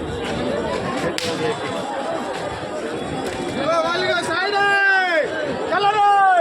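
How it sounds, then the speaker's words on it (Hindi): Dense nighttime crowd chatter in Puri, a continuous babble of many voices that stays steady and fairly loud throughout, with a few nearer voices standing out over the hubbub. "भीड़ प्रबल यार"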